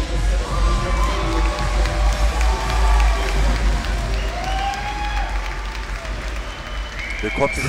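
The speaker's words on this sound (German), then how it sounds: "Bekommt ihr den Applaus" A crowd at a combat-sports fight night applauds and cheers the winning fighter, steady clapping and shouting filling the hall while a commentator talks over it.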